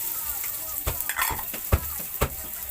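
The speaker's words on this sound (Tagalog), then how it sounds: "igisa natin yung bawang" Garlic sautéing in a pan, with a soft sizzle under a few sharp clanks and scrapes of a utensil stirring against the metal, close by and fairly quiet.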